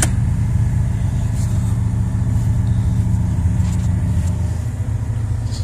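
A 1986 Chevy one-ton dually pickup with a 454 engine idles steadily after a cold start at 21 degrees, a loud, continuous low rumble with a slight drop in pitch near the end.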